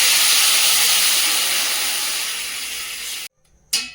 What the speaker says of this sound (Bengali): সবজিটা ভেজে নিয়েছি, জল দিয়ে দেবো।